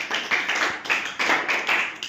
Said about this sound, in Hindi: बढ़िया ताली बजा दो भाई